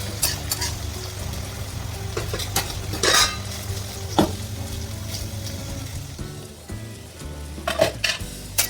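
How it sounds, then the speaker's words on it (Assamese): Mustard greens frying in a pan with cumin, coriander and red chilli powder, a low steady sizzle broken by intermittent scraping and stirring clinks of a utensil against the pan. "আৰু 5 মিনিট ভাজি ল'ম মই শাকখিনি"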